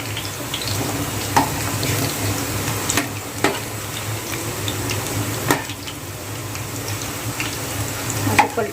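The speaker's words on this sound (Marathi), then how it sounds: "छान असं कलर येईपर्यंत फ्राय करा." Onion bhaji fritters frying in hot oil, a steady close crackling sizzle throughout with a few sharper clicks and scrapes as the fritters are turned.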